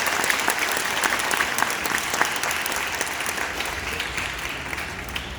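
An audience at a school gathering claps for its principals, steady applause with individual claps standing out, continuing evenly at moderate volume for several seconds.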